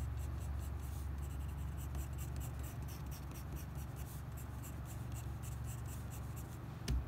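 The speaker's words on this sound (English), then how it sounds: "Fewer lines spread further apart with less pressure is going to make a lighter application of our colored pencil." Colored pencil strokes scratching lightly across paper with light pressure, a steady soft rasp of sparse, widely spaced lines, continuous and close up with no talking.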